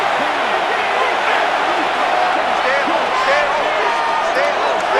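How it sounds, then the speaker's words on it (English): Stadium crowd cheering during a third-down moment in Madden NFL 26, a Panthers versus Raiders simulation on PS5, a dense continuous roar with scattered whoops and whistles, steady and loud throughout. "This crowd into it now as we get to 3rd down."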